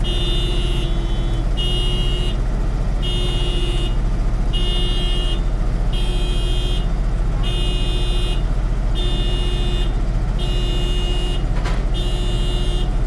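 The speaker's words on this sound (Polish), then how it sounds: "Chyba coś się zepsuło z klaksonem." A car horn or buzzer honks over and over in a steady on-off rhythm, about ten evenly spaced beeps, apparently stuck and malfunctioning, sounding loud and close above a constant low engine rumble.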